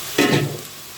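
Lentils (dal) stirred and frying in a pan, a short burst of sizzle and scraping near the start that settles into a faint, steady hiss.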